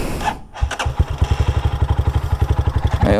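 A carbureted motorcycle engine catches and settles into a steady, rapid thumping idle during an idle and throttle adjustment, loud and close, with no voices.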